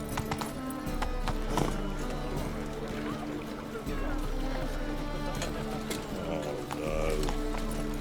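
Hooves of a horse clip-clop in rapid rhythm as it runs through the streets in The Witcher 3, with steady footfalls over game ambience and a voice speaking briefly on top.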